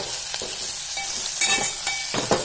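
Turmeric, goda masala and garam masala are stirred as they fry in a pan, giving a close, steady sizzle broken by a few scraping strokes of the spoon, with no voices.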